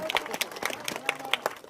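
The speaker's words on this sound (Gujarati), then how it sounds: "તાળીઓ પાડો ભલામણા." An audience claps at a public gathering, producing a brisk, uneven patter of hand claps that carries steadily through the short stretch, fairly close and moderately loud.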